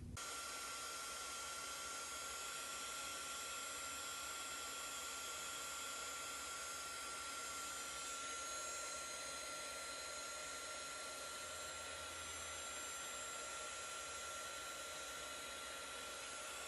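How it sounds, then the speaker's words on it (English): A heat embossing tool blows a steady, whining hiss over a card, melting embossing powder. The sound is constant and unbroken throughout, close and fairly quiet, with no speech. "And then I'm going to go ahead and emboss this until it's melted."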